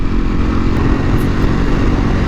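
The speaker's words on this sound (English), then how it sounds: "I'm riding this bike around here" A Ducati Panigale V4R motorcycle engine while riding through San Francisco, a loud, steady, close engine drone with wind rush running throughout without a break.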